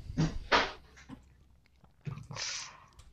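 A dog indoors making a few short vocal bursts, two close together at the start and another louder, longer one near the end, separated by quiet stretches.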